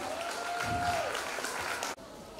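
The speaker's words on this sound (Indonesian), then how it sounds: "dikasih tepuk tangan buat Mariatul Kiptia" Audience applause at the opening of the 17th Sayyidah As Sholchah selection pageant: a dense, steady burst of many hands clapping that cuts off abruptly near the end, with a faint tone and voices in the background.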